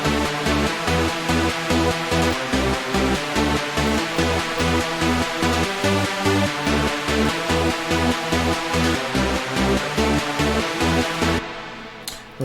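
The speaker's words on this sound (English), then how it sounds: "And together with the lead sounds, it sounds like this" Layered dark electro synth bass pulses in a driving rhythm beneath bright lead synth parts, dense and loud, then drops off abruptly near the end; no voices.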